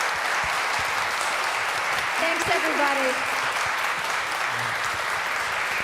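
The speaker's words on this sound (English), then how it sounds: "Let's give a round of applause." Steady, dense applause from an audience after a panel discussion on mental health and well-being, continuous throughout, with a brief spoken thanks heard over the clapping.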